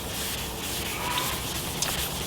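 Wet sandpaper on a pad rubbing across a surface in a steady, close, hissing scrape, continuous throughout with no voices.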